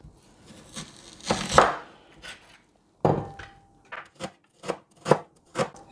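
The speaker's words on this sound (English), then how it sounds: "Going to slice our onions." A knife slices onions on a cutting board, with a scraping swipe early on and then a series of crisp, evenly spaced chops close by, no talking.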